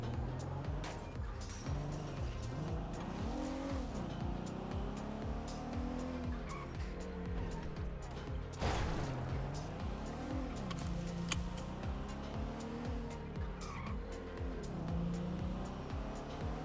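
A video game car drives continuously with engine pitch rising and falling through gear changes, punctuated by repeated tire squeals and skids as it corners, heard fairly close and steady throughout.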